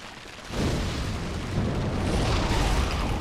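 Booming fiery Chaos Fire Orb pyromancy explosions from the Dark Souls 3 video game, starting suddenly after a brief lull and rumbling on as a loud, dense roar.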